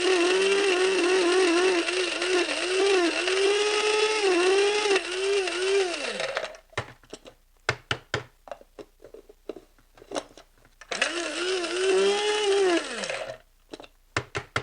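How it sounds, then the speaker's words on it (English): A Krups grinder whirs loudly as it grinds pecans, a close, high motor whine running in two bursts with rattling taps and knocks between them. "I just ground them up in my Krups grinder"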